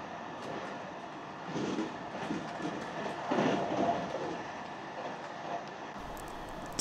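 Steady rumble of a JR Hokkaido Class 789-1000 Suzuran limited express train running along the rails, a continuous mid-level drone with faint rhythmic clatter, heard from inside the carriage.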